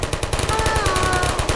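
Portal's turrets fire at the player in a rapid, even burst of shots, loud and close, lasting the whole moment without talk.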